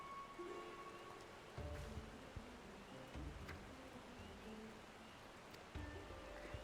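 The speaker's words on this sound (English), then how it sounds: "we're just having this conversation in this pouring rain." Pouring rain in Final Fantasy XIV, a steady quiet patter of drops across the ground with a few brief low thumps of game sounds, heard alone without talk.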